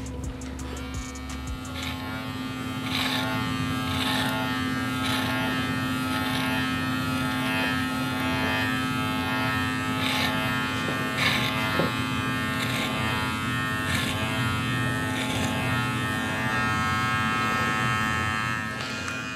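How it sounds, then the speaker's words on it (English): Electric hair clipper buzzing steadily while fading a beard, held close and running continuously with a constant tonal hum and small shifts as it moves along the face. "you're gonna ride the shape of the clipper on the side of your face"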